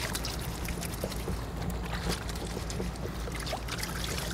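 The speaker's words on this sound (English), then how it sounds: "Then submerge your clothes or whatever you're washing into that soapy water. And I do recommend scrubbing them just to get all that dirt out." Clothes are swished and scrubbed in a tub of soapy water, a steady close splashing and sloshing with small watery bursts throughout and no talk.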